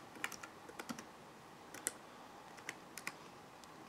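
Quiet, close taps on a Dell laptop keyboard as a username is typed, a scattered run of light clicks at uneven intervals with no talking.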